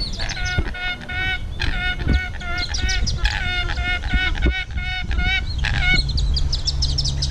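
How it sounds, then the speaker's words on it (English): A duck at an Australian wildlife sanctuary gives repeated nasal honking calls in quick, steady runs, loud and close, while other birds sound faintly in the background. "Come on, little duck."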